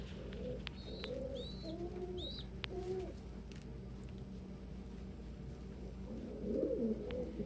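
Pet birds gathered on a mesh feeding floor at breakfast coo softly in short repeated phrases, with a few sharp higher calls mixed in, fairly faint against a steady room hum.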